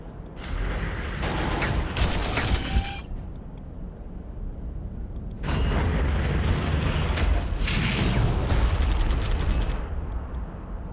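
Gunfire and explosive booms from the strategy video game Warhammer 40,000 Armageddon, arriving in two dense bursts of crackling shots and rumbling blasts, with quieter mechanical background between.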